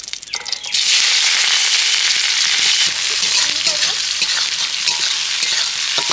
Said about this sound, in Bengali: এবার আমি পেঁয়াজটা ভালো করে লাল লাল করে ভেজে নেব